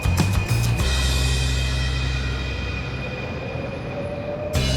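A Metrorrey metro train in Monterrey hums and rumbles at a station with a steady mechanical drone and a high tonal whine, loud and close, ending with a brief clunk and no voices.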